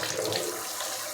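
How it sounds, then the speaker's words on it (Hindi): Water streams from a kitchen tap's shower-head attachment into a sink, a short, soft, steady hiss of spray. "कितना इजी से पानी गिराता है, देखिए"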